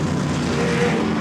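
Historic race cars, including a Lola T70 and a McLaren Elva M1A, roar together into a corner at the Goodwood Members' Meeting, a loud continuous engine drone with no gaps.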